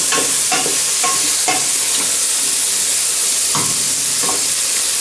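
Mushrooms fry in a hot pan with a steady, loud sizzle, broken by repeated scraping stirs as they are turned over for even browning; no voices.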